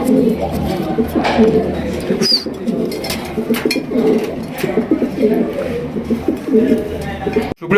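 Racing pigeons coo continuously in low, throaty rolling calls close by, with occasional rustling and a person talking over them.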